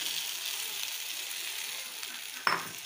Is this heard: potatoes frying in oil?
yes